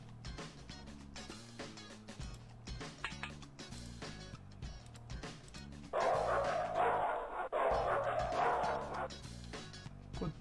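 Small dog barking in a video game, a run of quick yelps and bow-wows over looping game music, with a louder, busier passage near the end.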